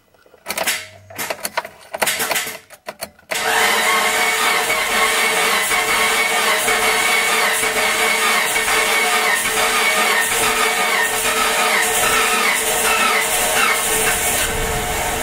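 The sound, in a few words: 2004 Mitsubishi Lancer Ralliart engine cranking with starter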